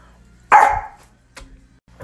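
A person imitates a dog with one sharp, loud bark, followed by a couple of fainter short vocal sounds.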